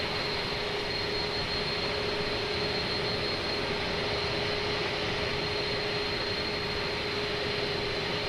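Steady, continuous jet engine roar from an Inibuilds A310 airliner slowing before descent in Microsoft Flight Simulator 2024, a constant broadband whine with a thin high tone, unchanging and without talk.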